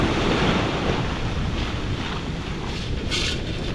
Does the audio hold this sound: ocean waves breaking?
yes